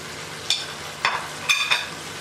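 Chicken karahi with bay leaf, coriander and crushed red chilli frying in a pan, a soft continuous sizzle broken by four brief stirring scrapes.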